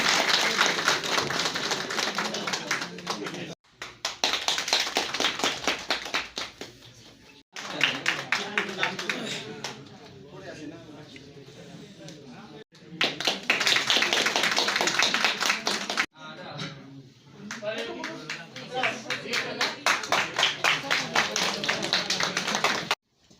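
Scattered clapping from guests at a retirement send-off for a block development officer in Rampur, coming in several bursts of a few seconds each, with a voice speaking between and over the bursts.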